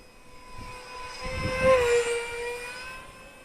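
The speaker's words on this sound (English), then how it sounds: "it sounds like that motor is turning faster with those air inlets cut into the sides" Freewing F-86 Sabre 64mm electric ducted fan model jet, with air inlets cut into the fuselage sides, flies past, its high steady turbine-like whine swelling louder near the middle of the pass and fading again.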